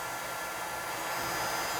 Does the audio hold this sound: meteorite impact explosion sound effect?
no